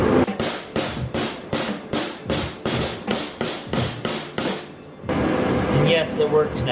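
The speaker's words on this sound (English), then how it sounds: "I just had to give it a little bit of hammering on the booster" Metal hammer strikes on the brake booster of a 1985 Toyota 4Runner, about a dozen sharp evenly spaced blows close up, followed by a few seconds of louder clattering and shop noise.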